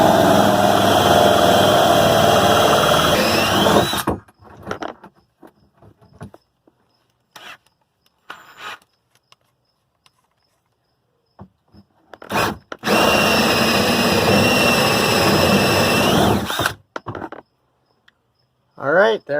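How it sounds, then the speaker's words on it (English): A power drill with a worn drill bit whines loudly and steadily for about four seconds, stops amid quiet clicks and handling noise, then runs again in a second long burst, with short spurts at the end. "Probably doesn't help that drill bit is seeing much better days."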